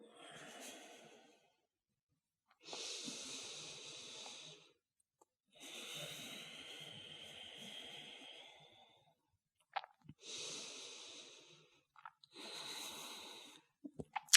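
Deep, audible breathing during a vinyasa yoga practice: slow, evenly spaced long inhales and smooth exhales, close and soft, with brief pauses between breaths and no talking.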